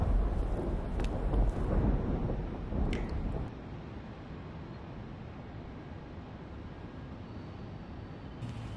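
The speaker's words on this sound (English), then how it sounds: "The sound of thunder is closer this time." Distant thunder rumbles low and heavy for a few seconds, then fades into a quiet outdoor hush with faint wind.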